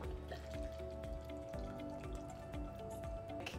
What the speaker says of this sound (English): my drink just poured itself.